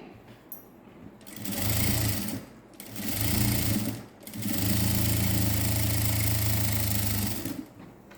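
A sewing machine stitches a net neck blouse, running loud and close in three steady humming bursts separated by short pauses.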